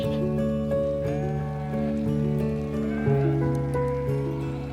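Dairy goats on a farm in Victoria's granite belt bleat in overlapping, drawn-out calls, several animals at once, loud and close and continuing without pause.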